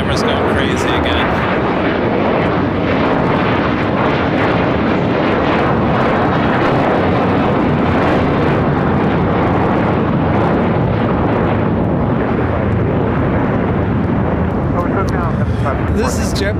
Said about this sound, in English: This is JetBlue Airways 524 in the first mint livery, taking off to JFK